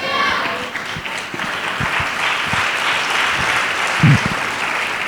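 Applause from a church audience during a sermon, a dense steady patter of clapping filling the hall at close range and holding evenly throughout.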